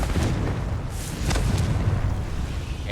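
A Confringo blasting spell detonates in the Hogwarts Legacy video game, giving a loud, sustained booming rumble with sharp bursts layered over a heavy low roar.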